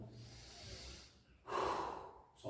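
Deep breathing as a posture exercise, a quiet drawn-out exhale followed by a stronger, close, audible inhale through the nose, with no speech.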